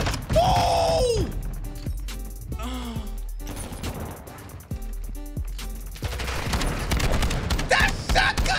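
Shotgun blasts in Call of Duty Modern Warfare 2, a few loud booming shots spaced apart, mixed with mechanical reload clicks and game sounds.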